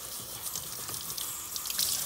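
Water runs from a kitchen tap in a steady, hissing splash, close and even for a couple of seconds with no voices.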